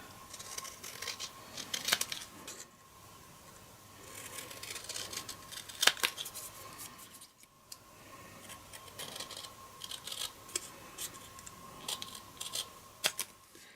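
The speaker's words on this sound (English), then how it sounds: "So I'll do this with a pair of scissors" Sharp snipping cuts of scissors trimming a paper leaf, several irregular clicks over a quiet rustling background, close by, no talking.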